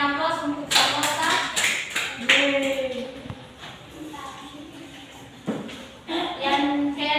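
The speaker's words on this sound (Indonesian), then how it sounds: "berikan aplaus untuk Samota" Classroom applause for a student during a lesson on the human respiratory system, a burst of clapping from a group mixed with voices talking over it, fading and then picking up again.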